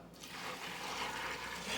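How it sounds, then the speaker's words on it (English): Hot, nearly boiling water pours over muscadine grapes in a pot, a steady soft rushing splash heard alone at a quiet level. "we're going to pour this water"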